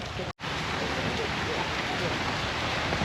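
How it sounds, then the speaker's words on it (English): Rain begins falling outdoors in Siem Reap, Cambodia, during the rainy season, a dense, steady hiss of drops that continues after a brief dropout near the start. "it's starting to rain."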